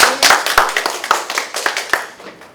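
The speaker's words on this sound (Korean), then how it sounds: "박수 한번 부탁드릴까요?" Close, sparse clapping from a small conference audience welcoming a presenter to a panel on war and playwright Cha Beom-seok's plays, with distinct sharp claps in an uneven rhythm that taper off after a couple of seconds.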